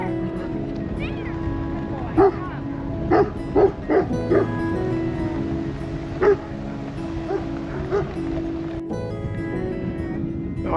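A dog barks in several short, sharp bursts spread over ten seconds along a rural rail trail in Indiana, heard over a constant low hum from a cyclist's setting, with a voice speaking between barks.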